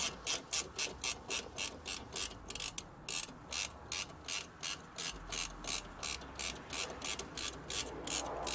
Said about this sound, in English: So now I'm just removing this bracket right here.